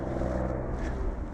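Steady roar of nearby highway traffic beside Fort Ridgely State Park, Minnesota, a dense low rumble of passing vehicles with no pauses.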